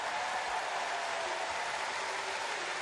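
Sustained audience applause filling a basketball arena during a Chiba Jets vs Sendai 89ers B.League game, dense even clapping held at a steady level for the whole stretch.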